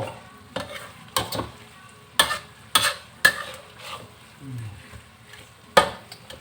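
Pork belly is stir-fried with pickled bamboo shoots and basil in a wok, with irregular sharp scrapes and clacks of the spatula over a low, continuous sizzle.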